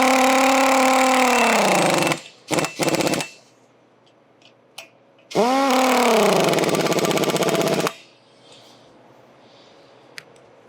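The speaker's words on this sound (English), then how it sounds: "with our pneumatic air driver, we will drive the gates in until they are touching" A pneumatic air driver drives the gates of a downhole cable protector together, giving two long, loud, close bursts of rapid hammering with a falling whine as it spins up, separated by short clatters and a quiet pause.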